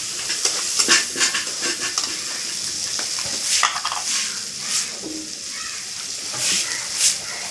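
Spice masala for egg paneer is sautéed and stirred in a pan, a steady loud sizzle broken by repeated scraping strokes of the spatula, close by, with no talk over it.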